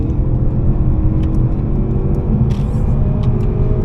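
A 2025 Mercedes-Benz CLE 300 Coupe cruises on a road, heard from inside as a steady, loud low rumble of engine and road noise with a few faint clicks, no talk.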